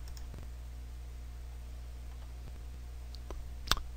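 Several sharp computer mouse clicks, sparse and close, sound over a quiet background hum, with the loudest click near the end.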